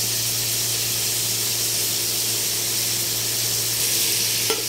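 Seasoned food in a pan sizzles loudly and steadily while being stirred, a dense continuous hiss close up with a brief scrape near the end.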